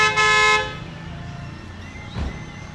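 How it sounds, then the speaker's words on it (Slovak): A vehicle horn gives one loud, sustained honk on a rural Mexican road, followed by a lower engine rumble and a brief thump, with faint voices in the background. "zase bude trúbiť"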